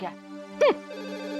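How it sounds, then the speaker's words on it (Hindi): A telephone rings with a bright electronic tone in a Hindi TV serial household scene, steady and moderately loud, with a brief voice cutting in near the start. "फोन आ रहा है"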